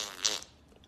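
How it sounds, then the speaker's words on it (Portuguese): A single short, breathy fart bursts out near the start, close and brief, then fades into quiet. "vou ter que peidar"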